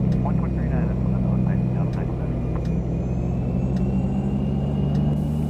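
A King Air twin turboprop in the X-Plane 10 flight simulator throttles up on the runway, a steady loud droning engine hum with a low rumble and a constant tonal whine.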